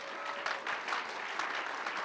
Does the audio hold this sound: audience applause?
yes